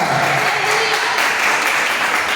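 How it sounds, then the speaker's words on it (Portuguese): A church congregation bursts into loud, sustained applause, a dense wash of many hands clapping together that fills the room evenly from start to finish. "Agora eu te convido a dar a mais forte salva de palmas ao Senhor Jesus"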